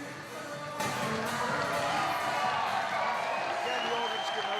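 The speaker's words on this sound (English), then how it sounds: "the audience giving a rapturous round of applause to Peter Crook" Boxing audience applauding Peter Crook, a sustained roar of clapping and cheering that swells sharply after a brief quieter moment, with a voice talking over it.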